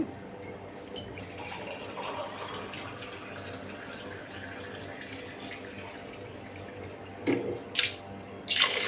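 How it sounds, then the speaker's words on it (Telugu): Water poured from a glass into a pot of washed moong dal and rice for jaggery pongal gives a steady, close splashing wash, with a few sharper clinks and pours near the end and no talking. "ఈ గ్లాస్తోనే రెండు గ్లాసులు దీనిలో నీళ్ళు వేసుకుందామండి"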